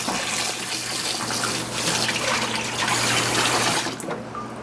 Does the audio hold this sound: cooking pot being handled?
no